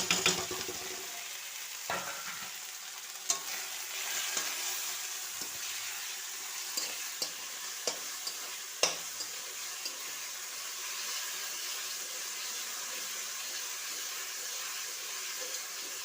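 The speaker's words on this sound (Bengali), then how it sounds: "মশলাটা একটু ভালো করে কষিয়ে নেব।" Spice paste and onion paste frying in a pan for a country chicken curry, a steady soft sizzle with occasional stirring clicks and scrapes running throughout, no voices.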